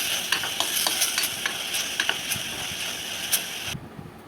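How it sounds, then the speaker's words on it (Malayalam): Chopped ginger and garlic frying in a pan while a spatula stirs in quick repeated scraping strokes over a soft sizzle, near and steady, ending abruptly in quiet. "ഇഞ്ചിയും വെളുത്തുള്ളിയും കൂടി ചോപ്പ് ചെയ്തും കൂടി ഇട്ട് കൊടുക്കുന്നുണ്ട് എന്നിട്ട് നമുക്ക് നല്ലതുപോലെ ഒന്ന് മിക്സ് ചെയ്തിട്ട്"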